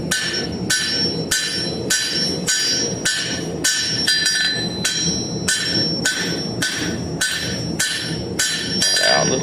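A 2.5 pound rounding hammer draws out hot steel on an anvil, ringing blows landing in a steady, even rhythm about every two-thirds of a second, loud and close with a metallic ring after each strike.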